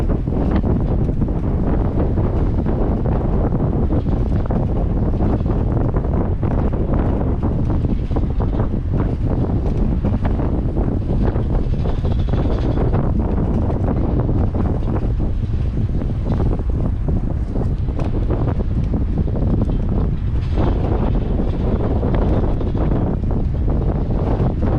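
Strong wind buffets the microphone on the Overseas Highway bridge, a loud, constant roaring rush with gusty surges filling the whole stretch, no voices heard.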